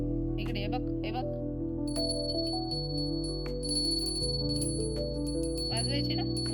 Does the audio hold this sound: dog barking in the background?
no